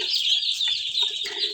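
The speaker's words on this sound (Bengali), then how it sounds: "এখানে আমাদের হাঁসের বাচ্চার সঙ্গে রাখা আছে দেশি মুরগি বাচ্চা" Native chicken chicks kept alongside ducklings on a farm make continuous high, close cheeping and peeping, several birds overlapping without pause.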